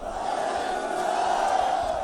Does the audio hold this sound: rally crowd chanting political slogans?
yes